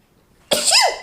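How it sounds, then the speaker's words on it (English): A single sharp sneeze bursts out after a moment of near silence, loud and close, trailing off with a breathy tail. "I want to sneeze, hold on"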